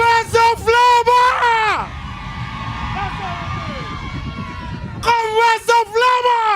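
A large crowd at an outdoor Labour Party political rally in Tabernacle cheers and shouts for about three seconds in a dense wash of voices, set between stretches of loud amplified speech from a speaker.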